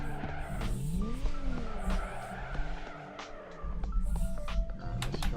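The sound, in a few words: car drifting with tire skid in video game Torque Drift 2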